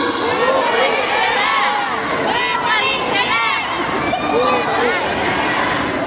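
A large crowd shouts together in a loud, continuous roar, voices overlapping with rising cries, sounding close and dense throughout.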